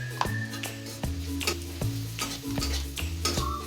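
Chili powder frying in a pan, a close, steady sizzle broken by regular stirring scrapes and clinks of the utensil, with no voices.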